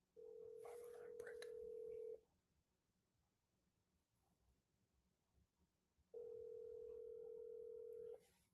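A phone call rings out. Two long, steady ringback tones of about two seconds each are separated by a four-second gap, loud and clear over faint background hiss.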